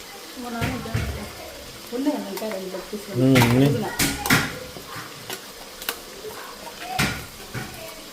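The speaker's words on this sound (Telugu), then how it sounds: "ఫ్రైలోకి వేస్తున్నా" Chicken leg pieces frying in a pan at home, a sizzle with stirring and clanks of utensils against the pan, while several people talk in the background.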